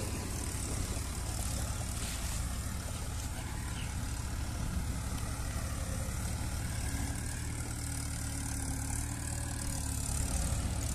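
A tractor engine running in a field, a faint, steady low drone that continues without a break throughout.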